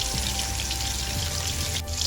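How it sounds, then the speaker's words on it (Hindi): Water is poured into a pan of frying ground spices, black pepper, red chili, turmeric and ginger powder, giving a steady hiss and sizzle close up, with a faint clink near the end. "थोड़ा सा पानी ऐड करेंगे और मसालों को हम भून लेंगे"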